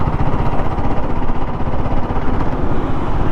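A Royal Enfield Guerrilla 450 motorcycle engine while riding in sixth gear at low revs, a loud, steady rumble mixed with heavy wind buffeting, continuous and close.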